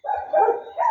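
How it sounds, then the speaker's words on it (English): Dogs barking in the early morning in the Jamaican countryside, a few short barks close together across about a second with no talk over them. "You can hear the dogs barking"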